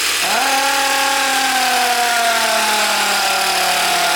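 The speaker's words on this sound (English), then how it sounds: "Next up is the Percussion Massager." A handheld percussion massager motor spins up sharply and then hums loudly and steadily nearby, its pitch drifting slightly lower as it runs, with no talking.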